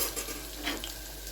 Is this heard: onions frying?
yes